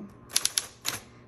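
A Smith Corona Coronet Auto 12 electric typewriter typing: a quick burst of three sharp key strikes, a short pause, then another clack, close and crisp in a quiet room.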